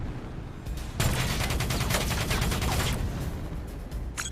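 Minigun fire in Call of Duty Black Ops 3: a loud, continuous burst of rapid gunfire lasting about two seconds, with quieter game noise before and after and a brief clatter at the end.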